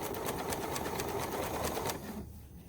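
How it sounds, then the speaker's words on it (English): A serger fitted with an Elasticator foot stitches elastic in a steady, fast, continuous whir up close, then stops abruptly near the end. "Now, all we're going to do is start stitching."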